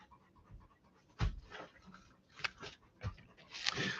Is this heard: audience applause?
no